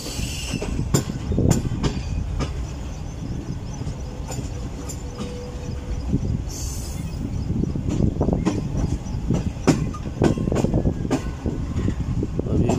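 Karakoram Express rolling on rails through Pakistan, a steady rumble of wheels with repeated sharp clicks and occasional squeals, running continuously and fairly loud throughout.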